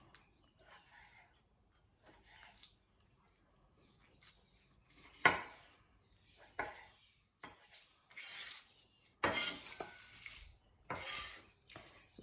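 Knife chopping peppers on a cutting board, a run of scattered sharp knocks and scraping strokes of varying loudness with pauses between them, close by and with no talk.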